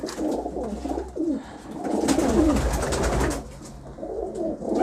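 Pigeons in a breeder loft coo in soft repeated rolling calls, several birds overlapping at close range with a low rumble underneath.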